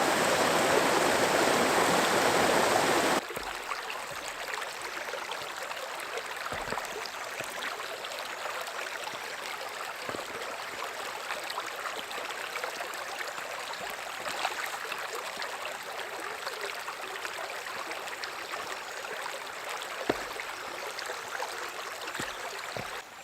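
A river stream rushing on Dartmoor, a steady broadband wash of flowing water that sounds louder and closer for the first few seconds, then settles into a continuous, even babble with no voices.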